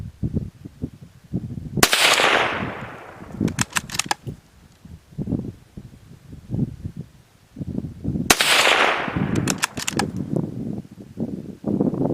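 Two sharp, loud cracks from a Ruger 77/22 All-Weather bolt-action rifle in .22 Magnum, fired outdoors about six seconds apart, each followed by a brief echo, with faint handling noise and low voices between.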